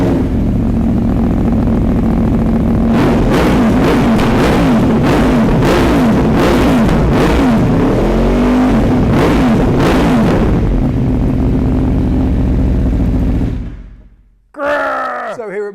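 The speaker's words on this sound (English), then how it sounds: "Let's fire this one up and have a listen." An Aprilia Tuono 1100 V4 RR motorcycle engine idles loudly, then revs repeatedly in rising and falling bursts before cutting off, followed by a brief restart.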